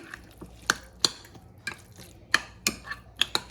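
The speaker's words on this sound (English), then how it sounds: "Put my bacon in there. Stir this up together." A spoon stirring loaded mashed potato with bacon in a pot, with a run of separate scrapes and clinks at an uneven pace, close and clear with no talk.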